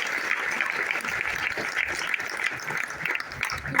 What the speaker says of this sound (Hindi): और एक बार जोरदार तालियां होनी चाहिए जिन्होंने प्लान लिखा है।